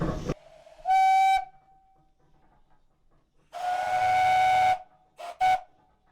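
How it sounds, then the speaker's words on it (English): A loud steam donkey whistle blows several times: a short blast, a longer sustained one, then two quick toots, with hissing steam around them. "It carries a variety of whistles on it"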